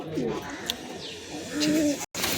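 Pigeons coo in a loft of sky pigeons, kept female birds among them, with soft repeated low coos and a few brighter calls close by over steady background noise.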